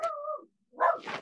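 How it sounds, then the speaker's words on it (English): A dog barks at someone at the door: one drawn-out, whining bark, a short pause, then a sharper second bark, close and fairly loud with no talking. "My dog is barking at someone at the door."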